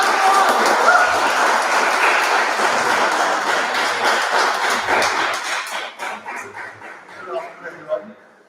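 Audience applause at an alumni association annual general meeting, a dense sustained clapping that fills most of the clip before thinning into scattered claps at the end.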